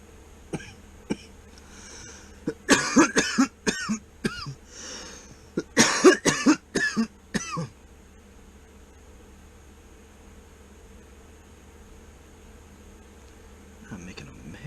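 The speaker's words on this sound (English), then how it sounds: "I'm making a mess with my cough." A burst of repeated harsh coughs, several in a row, close to the microphone, then trailing into quiet room hum.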